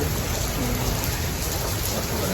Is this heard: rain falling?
yes